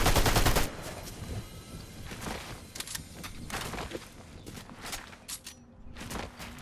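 Video game gunfire rings out in repeated rapid bursts, opening with a loud volley and then continuing as scattered shots at moderate distance. No voices are heard.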